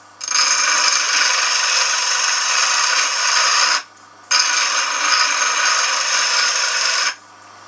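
Medium grinding wheel working a small, worn, rounded piece of metal: two long, loud, continuous grinding passes with a short break between them.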